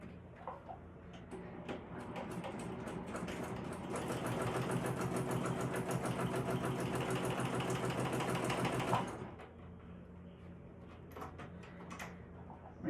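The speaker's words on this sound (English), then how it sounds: "So now all you're going to do is sew down each side with the allotted seam" A sewing machine stitches down the sides of a crossbody bag in one long, steady whirring run of rapid needle strokes, close by, rising and then stopping abruptly, followed by quiet handling.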